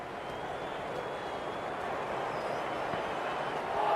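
A cricket crowd in the video game Cricket 26 keeps up a steady, dense roar of cheering and applause throughout, swelling slightly toward the end, with no distinct voices standing out.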